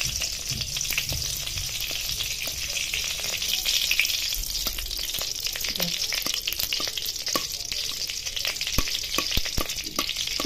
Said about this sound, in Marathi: हा पीस टाकून द्यायचा खोबऱ्याचा आणि हा पूर्ण ड्राय करून घ्यायचा एकसारखं हलवत राहायचं